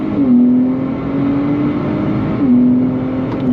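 A 2025 Nissan Z Sport engine revs hard under throttle, pitch climbing steadily, dropping briefly at a shift, then rising again, loud and close.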